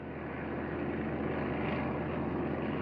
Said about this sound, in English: Japanese sea lanes were regularly patrolled by General George Kinney's B-17s and B-24s.